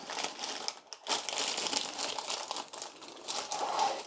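Greaseproof paper crinkles and crumples as hands press it down into a cake tin for lining, with a continuous close rustle broken by a brief pause, and no speech.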